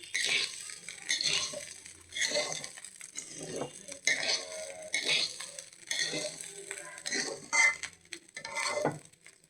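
Egg frying with rice in a pan for pulao, heard as a run of scraping, stirring bursts and light sizzle with clinks of utensil on metal, steady and close throughout.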